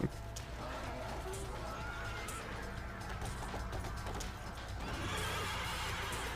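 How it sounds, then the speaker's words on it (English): A horse whinnies from a carriage in the video game Devil May Cry 3: Dante's Awakening, heard over busy game noise with possible hoof clops, fairly steady and moderately loud throughout. "It's just a horse in a carriage, but no one's in the carriage."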